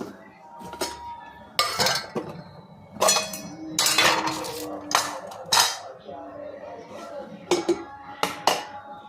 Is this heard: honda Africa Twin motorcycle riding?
no